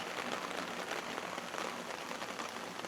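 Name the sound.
rain falling on a melon field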